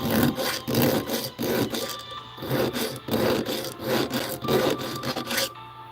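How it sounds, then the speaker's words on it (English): A hand file works material by hand in a regular rhythm of rasping strokes, roughly two per second, each a close, gritty scrape with short pauses between, and no one speaking. "the file is a little bit faster than the Dremel as far as getting the material off"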